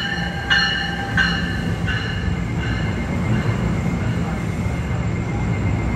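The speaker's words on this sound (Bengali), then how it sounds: "আমাদের ট্রেনটি এসে গেছে।" Double-decker commuter train bound for New York Penn Station rolling into the station platform, a steady low rumble with repeated brief high tonal squeals or horn-like beeps early on.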